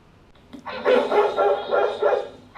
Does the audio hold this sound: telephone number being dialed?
no